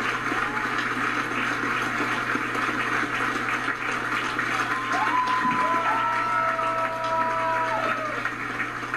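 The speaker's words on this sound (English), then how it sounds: "please join us in a rousing round of applause for today's number retirement honoree and a true softball legend, Kat Osterman" A crowd at a Texas softball game claps and cheers for a pregame number retirement ceremony. The applause is broad and continuous, with tonal sweeps from the stadium PA or music running over it.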